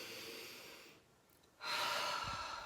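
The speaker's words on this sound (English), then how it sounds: "take a deep breath" One deep breath during an EFT tapping session: steady soft background, a brief dip, then a close, airy inhale that swells and holds.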